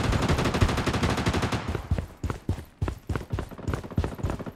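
Rapid automatic gunfire fills the scene in the mobile shooter Project: BloodStrike, a fast continuous burst that breaks into shorter volleys and single sharp shots.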